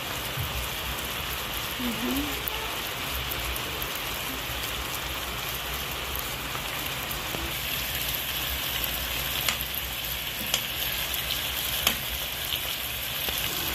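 Chicken pieces frying in a pan for Filipino chicken adobo with potatoes, with soy sauce poured in; a steady, loud broadband sizzle carries on throughout, with a few sharp clicks near the end and no talking.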